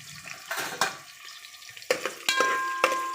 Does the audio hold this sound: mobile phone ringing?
no